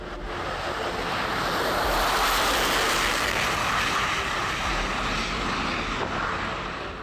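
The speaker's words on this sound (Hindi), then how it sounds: "तीनों ने स्वदेश में निर्मित हल्के लड़ाकू विमान तेजस में उड़ान भरी।" An indigenous Tejas light combat aircraft flies past with a steady, broad jet roar that swells slightly and holds for several seconds, loud and continuous with no voices.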